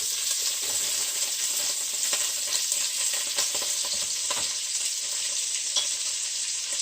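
Green beans tipped into melted bacon fat, frying with a dense, even, loud sizzle and faint crackles throughout, close up, with no one speaking.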